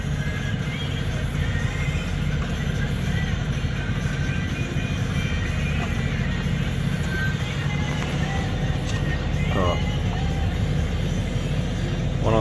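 Sailboat motoring under engine power on a calm, windless passage in the Bay of Colwyn, with the sail lowered; a steady, loud broadband engine and water drone runs throughout, with a few faint higher tones near the end.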